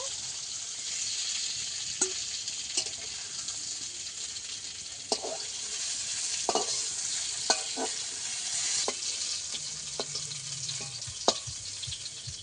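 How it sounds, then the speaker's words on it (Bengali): Food fries in a pan for a potato and pointed gourd curry with rohu fish, a constant bright hiss of sizzling oil punctuated by sharp utensil clicks and stirring taps. "আবারও কিছুক্ষণ ভেজে নেব"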